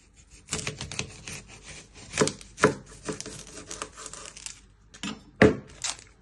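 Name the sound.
knife chopping the end off an onion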